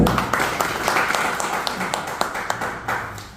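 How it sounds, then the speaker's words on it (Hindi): Audience applause at a Metaforce meeting, a steady wash of many hands clapping at moderate loudness with a few sharper individual claps standing out. "एक बार जोरदार तालियां"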